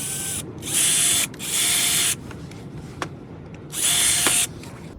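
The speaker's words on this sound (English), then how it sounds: "right over here is where we'll drill a hole." A power drill bores a hole in a Toyota Sequoia's rear bumper area, running in three loud sustained bursts with short pauses and a couple of small clicks between them.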